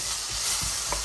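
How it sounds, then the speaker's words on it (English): Onions frying in oil in a pan, a steady close sizzle with a few soft stirring scrapes over about a second. "So now you're going to put some oil in there and chuck your onions in. We love the sizzling sound."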